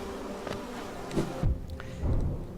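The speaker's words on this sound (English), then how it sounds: "It's a bit hard to tell with bees." Bees buzzing in the Hollow Knight video game, soft intermittent droning hums that come and go at low level over a quiet ambient background.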